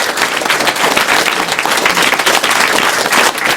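A crowd at a speedrunning charity marathon event breaks into loud, sustained applause, dense close clapping from many people holding steady for several seconds, with faint cheering mixed in and no clear speech.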